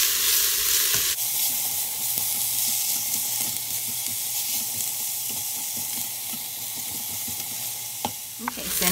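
Onions cook down in a pan with a steady, close sizzle while a utensil stirs and scrapes through them in irregular taps, ending with a couple of sharper knocks.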